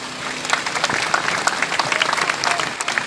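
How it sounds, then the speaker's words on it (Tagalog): A crowd at an Easter Salubong celebration breaks into loud, dense applause, many hands clapping at once in a busy, sustained burst with faint voices mixed in. "pumalakpak tayong lahat"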